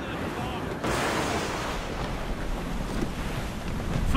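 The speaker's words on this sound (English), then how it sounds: "The wind is picking up." Wind and ocean waves roar steadily at sea in the video game Assassin's Creed Rogue, a broad continuous rush that swells slightly louder partway through and stays constant to the end.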